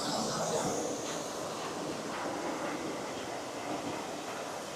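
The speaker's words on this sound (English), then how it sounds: "I'm missing the monorail going by here." A monorail passes by at EPCOT, Walt Disney World, Florida: a steady, broad rumble and rush that holds at an even level through the whole stretch, fairly close, with no talking over it.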